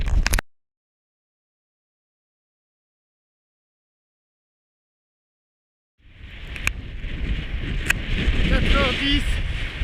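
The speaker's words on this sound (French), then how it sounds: "Toujours pas de pluie, beaucoup de vent" Strong wind buffets the microphone during a mountain ultramarathon in New Zealand, a rough, roaring rush that starts abruptly after a long stretch of silence and builds louder toward the end.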